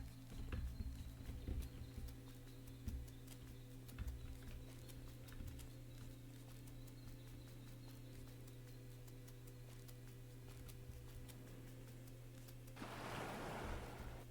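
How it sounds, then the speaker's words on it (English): A river's rushing water in the video game Panoptia swells in near the end, over a steady low hum and scattered soft clicks that run through the whole stretch. "Ooh, river sound."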